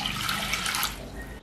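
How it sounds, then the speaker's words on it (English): Water gushes steadily from a tap into a pot of soaked horse gram, a continuous close splashing rush that tapers off at the very end. "Add 1 cup of water,"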